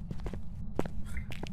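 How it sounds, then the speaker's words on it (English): Ghost footsteps in the horror game Phasmophobia, a few soft thuds scattered over a steady low rumble, with one sharper step standing out midway. "I heard him walking towards you."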